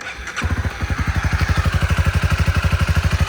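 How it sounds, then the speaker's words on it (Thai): A 2018 Honda CB300R motorcycle with 28,000 km on it fires up after a brief crank and settles into a loud, close, evenly pulsing single-cylinder idle. "สตาร์ทฟังเสียงเครื่องยนต์กันฮะ"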